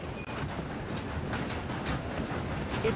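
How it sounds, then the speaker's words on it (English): Train rolling along rails in the Red Dead Redemption 2 game, a steady broadband rumble with a constant rolling roar and faint high squeals, continuous and fairly close, with no talk. "If we don't stop this train soon, the other boys will never catch us."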